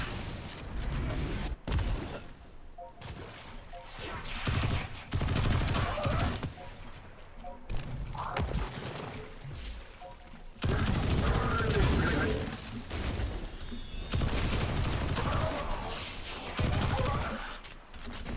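SMG fire in Destiny 2 comes in repeated rapid bursts of close, loud shots, broken by short pauses and mechanical reload sounds, with occasional talk underneath.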